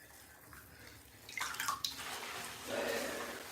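Bath water runs into a bathtub, a soft steady splashing that builds from about midway and holds fairly close, with no talking over it.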